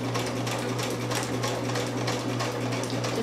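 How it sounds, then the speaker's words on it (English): Sewing machine stitching knife pleats in silk organza for Victorian trim, a steady fast rhythmic whir with regular needle clatter, close and loud, running alone without talk. "this is not something my machine is used to."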